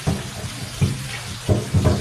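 Water is poured into a cooking pot of pork lomi with vegetables in several short splashing bursts separated by quieter moments, close by and with no speech.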